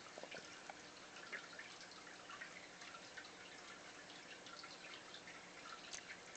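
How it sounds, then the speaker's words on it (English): Water drips and trickles from a squirting vintage Littlest Pet Shop toy, faint and irregular, with small splashes and patters over a quiet background. "See, he squirts water."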